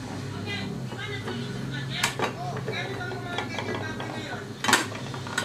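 A metal lid set onto a pressure cooker while cooking bulalo, two sharp clanks a few seconds apart over a low kitchen background with soft talk.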